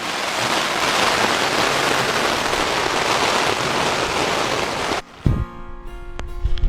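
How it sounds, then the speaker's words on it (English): Heavy rain roars loudly with gusting wind for several seconds in the Avalon Wilderness Reserve of Newfoundland, then cuts abruptly to quieter indoor sounds with a thump. "Windy, hard rain."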